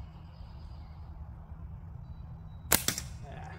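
A single sharp gunshot cracks out at a can across a quiet, low-humming outdoor background, followed by a short ringing echo.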